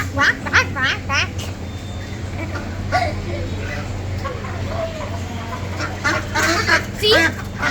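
Ducks quack in repeated nasal bursts at a busy bird market, with chickens clucking among them, under steady crowd noise and nearby talking.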